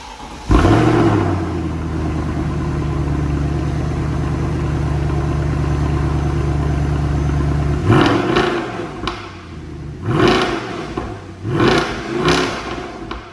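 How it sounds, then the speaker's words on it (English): A cold car engine, from an Audi S5 or Mercedes C63 AMG, starts and idles roughly for several seconds, then is revved in a few sharp bursts, loud and close. "Nice job revving it while it's cold."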